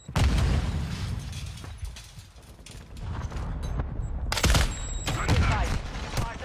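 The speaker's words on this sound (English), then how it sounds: "Throwing Semtex." In a video game, a Semtex grenade goes off with a loud boom amid bursts of rapid gunfire, several heavy blasts and crackling shots following one another close by, with brief voices mixed in.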